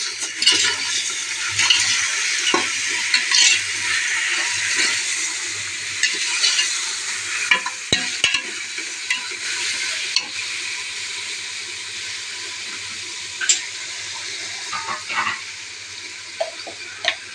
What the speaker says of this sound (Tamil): மஞ்சள் தூள் போட்டு நல்லா வதக்கிடுங்க